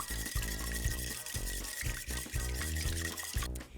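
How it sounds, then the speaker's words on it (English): An egg is whisked briskly in a large mixing bowl for German potato pancakes, giving quick, rhythmic clinks and sloshes close by. "Crack the egg into a large mixing bowl and whisk."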